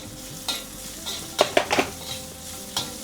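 Khichdi ingredients roasting in a pan after salt and black pepper go in, with a soft sizzle and several clear scrapes and taps of a spoon stirring against the metal, loud and close, no voice.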